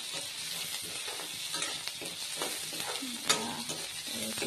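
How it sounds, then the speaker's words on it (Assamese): Ginger and green chilies fry in a pan with a steady, close sizzle broken by scraping stirs and a brief louder crackle. "এতিয়া মই জলকীয়াকেইটা দিওঁ, অলপ আদা ভাজি ল'লোঁ।"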